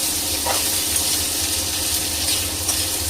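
Okra bhaji frying in a pan over a stove, a steady close sizzle and crackle with faint stirring scrapes throughout.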